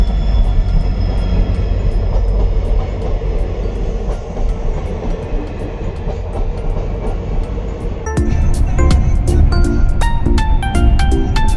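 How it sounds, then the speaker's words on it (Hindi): A train pulls into a railway station with a loud, steady rumble and rolling wheel noise, then metallic clatter and squealing brake tones grow louder as the cars pass close by. "रेलवे स्टेशन पर और ट्रेन भी आ गई है"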